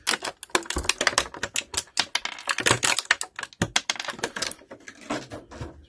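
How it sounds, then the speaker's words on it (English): Plastic blister packaging from a WWE Greatest Hits Series 3 Brutus Beefcake action figure is handled and moved about, giving a dense run of close, sharp crinkles, crackles and clicks with no talk. "Let's move the packaging out of here."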